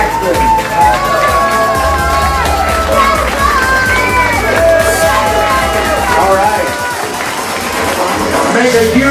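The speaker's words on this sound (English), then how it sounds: "Make some noise for Robbie" Crowd noise and cheering with whoops fill the room as winners of the 2015 Atlanta Eagle leather contests are celebrated, loud and continuous, mixed with a strong low music beat and some overlapping voices.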